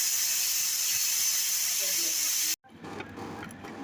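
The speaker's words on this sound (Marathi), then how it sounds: "कुकरचं झाकण लावून 2 शिट्ट्या करायच्या।" A pressure cooker on a village stove, cooking jackfruit vegetable curry, lets out a loud, continuous hissing steam whistle lasting about two and a half seconds before cutting off abruptly, followed by faint kitchen noise.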